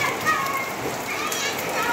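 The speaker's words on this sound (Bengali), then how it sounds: "বাড়ি ফেরার সময় দেখি খুব জোরে বৃষ্টি নেমেছে" Heavy rain falls at a school as a dense, steady hiss, with children's voices and playful chatter mixed in close by.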